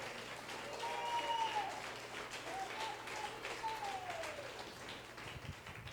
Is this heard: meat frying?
no